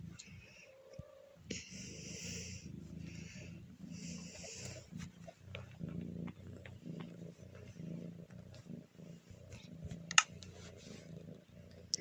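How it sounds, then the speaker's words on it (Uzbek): A cat hisses and growls in a low, rough, continuous rasp that runs for about twelve seconds at steady moderate loudness, with a few sharper bursts near the end. "mushuk ham xirilayapti."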